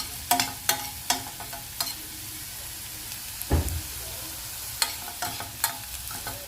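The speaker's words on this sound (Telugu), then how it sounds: "ఇప్పుడు మనం హై ఫ్లేమ్లో పెట్టుకొని బాగా మిక్స్ చేసుకుందాం ఒకసారి." Carrot pieces fry on high flame in a pan while a spoon stirs them, steady sizzling underneath and a series of scraping, knocking stirring strokes, one heavier clunk in the middle.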